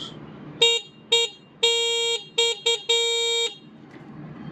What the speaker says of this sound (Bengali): হর্ন সাউন্ড কোয়ালিটি অত্যন্ত ক্লিয়ার।